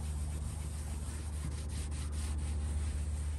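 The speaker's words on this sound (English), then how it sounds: "Take your applicator pad. Put you some on, and come over here and just rub it in." An applicator pad rubs Chemical Guys VRP dressing onto a surface, giving a steady, soft scrubbing texture with a few faint strokes over a low background hum.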